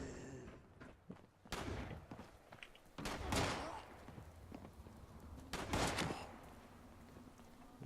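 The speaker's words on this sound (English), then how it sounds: "Shooting something. Shooting." Gunfire in the Fallout 76 video game, a few sharp shots and short bursts at moderate distance, spaced irregularly over a low background rumble.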